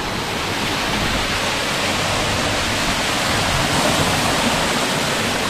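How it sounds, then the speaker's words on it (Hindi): Birthi waterfall in Pithoragarh roaring with rushing water and rising spray, a loud, dense, continuous broadband wash heard up close with no pauses. "ये झरने की फुहार उठती हुई पूरी"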